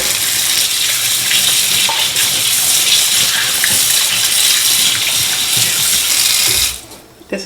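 Loud, steady gush of tap water splashing into a sink while raw chicken is rinsed, breaking up briefly during rinsing, then cutting off near the end.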